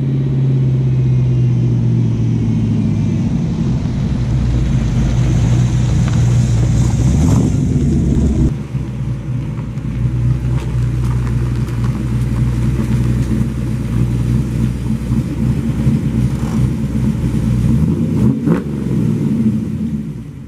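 SN95 Ford Mustang engine rumbling loudly and steadily while driving, a strained higher-pitched whine for the first seven seconds dropping to a deeper, continuous drone close by.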